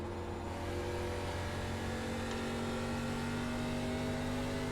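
An ARCA Menards Series stock car engine drones steadily at high revs in iRacing, with a constant loud tone and no voices.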